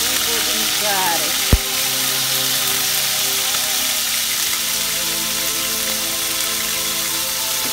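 Meat frying in hot oil in a pan for a pasta and rice soup dish, a steady close crackling sizzle throughout, with one sharp clack early on and a voice speaking briefly.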